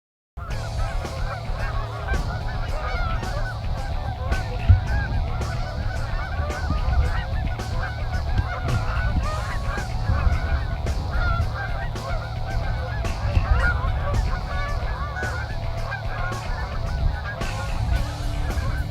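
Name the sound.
geese honking during a northern Minnesota goose hunt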